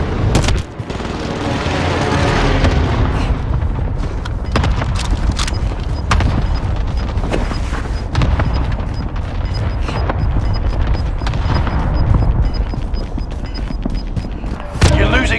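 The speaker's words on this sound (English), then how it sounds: "Enemy cluster strike." Heavy enemy cluster strike explosions in Call of Duty Warzone, a dense barrage of loud, overlapping booms and crackling blasts that rolls on almost continuously, with sharper bursts near the start and end.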